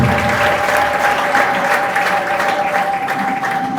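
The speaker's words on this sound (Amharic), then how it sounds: "አጨብጭቡ ለእግዚአብሔር ክብር።" A crowd claps steadily in a dense, continuous wash of applause, loud and sustained throughout, with a faint tone ringing underneath.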